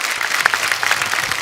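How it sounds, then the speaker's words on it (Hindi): Studio audience on a TV comedy talk show breaking into hearty applause, dense clapping from many hands, close and lively over a short burst. "एक बार उनके लिए जोरदार तालियां हो जाए।"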